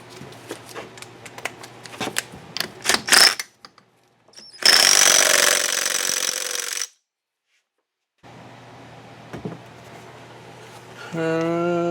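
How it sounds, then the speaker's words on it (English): An impact gun tightens a fastener on a 1985 Honda ATC 250r engine during assembly, firing in loud short bursts between metallic clinks of tools and parts, with a pause of near silence and a final rattling hammer burst. "I'll get my impact gun out and crank that thing on there."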